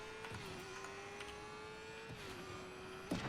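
Vehicle engine in the video game Fortnite runs at a steady drone with a slight pitch dip midway, then a short knock near the end, with no talk.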